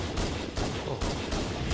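Rapid, dense weapon fire from the fuel rod cannon in the Halo video game, with loud, continuous bursts and brief gaps between volleys and no talk.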